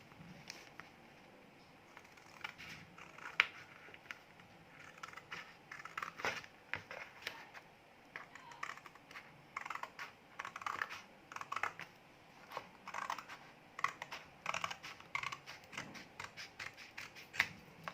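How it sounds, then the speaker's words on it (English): Scissors snipping through colored paper to cut out tangram puzzle shapes at home, a run of quiet irregular crisp snips and rustles that grow busier toward the end, with no talking. "now we can cut the different shapes"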